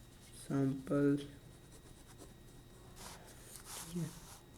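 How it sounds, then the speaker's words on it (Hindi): A marker scratches and squeaks across a board in a few short strokes, following a brief burst of nearby speech, with a faint room hum underneath. "ये मैं लिखता हूँ यहाँ"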